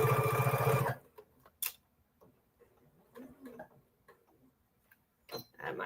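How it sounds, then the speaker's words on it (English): A sewing machine stitching a quilt top gives a brief loud whir, then a few soft, scattered ticks and clicks follow in a quiet room. "I might as well backstitch a little bit."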